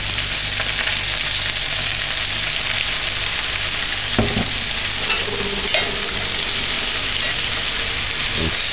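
Callaloo is stir fried in a pan, giving a loud, continuous close-up sizzle with occasional scraping stirs of the utensil against the pan.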